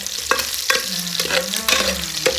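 Garlic browning in a frying pan, a loud, close sizzle broken by several sharp scrapes and clacks of a spatula stirring; nobody speaks.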